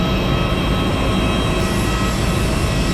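A GoFirst Airbus A320neo's engines give off a loud, steady drone and a constant rumbling roar with no voices over it.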